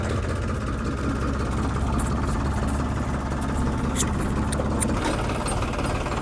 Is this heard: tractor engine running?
yes